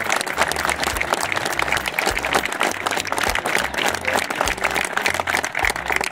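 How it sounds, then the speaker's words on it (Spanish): A crowd claps loudly and keeps it up for the whole stretch at a fishing club awards ceremony, with dense, sustained applause. "para eso sí quiero un aplauso fuerte realmente porque vale la pena"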